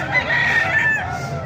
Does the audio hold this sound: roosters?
yes